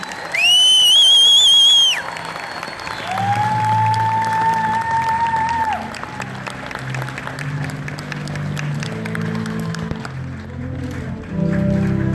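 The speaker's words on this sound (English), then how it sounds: "please join us in a round of applause for the United States Army Infantry Rifle Squad" Outdoor applause and cheering from the crowd at a US Army infantry graduation ceremony, with loud whistles and whoops over a steady wash of clapping, distant shouts and a low rumble in the background.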